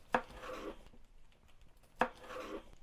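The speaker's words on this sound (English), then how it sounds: "These leftover pieces, we're just going to slice them into just nice thin slices." A knife cuts leftover steak into thin slices on a cutting board, with two distinct quiet chopping strokes about two seconds apart over faint background, and no voices.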